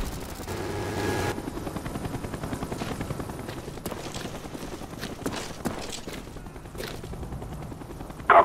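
Attack helicopter in a multiplayer shooter video game arriving over a steady rotor drone, with bursts of gunfire and explosions scattered throughout and a sharp loud burst at the very end.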